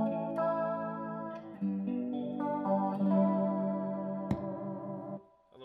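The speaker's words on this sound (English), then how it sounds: "Let's set it for kind of a traditional shimmery chorus sound." Electric guitar chords swirl through a Wampler Nirvana chorus pedal, steady and fairly loud, with a warbling, wavering shimmer that fades out at the end.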